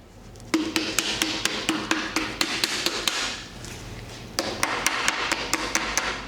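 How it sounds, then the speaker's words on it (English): Sharp metal taps on the side of a piston to seat and level it while fitting it into a 468 stroker big-block engine. Two quick, evenly spaced runs of about a dozen close taps are split by a brief pause. "if you tap on the side of it, after you get the piston seated, it'll self-level"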